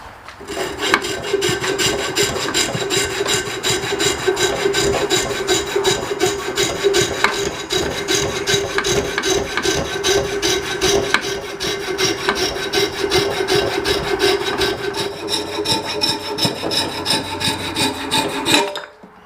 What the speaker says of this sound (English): I'm just going to cut this out with a coping saw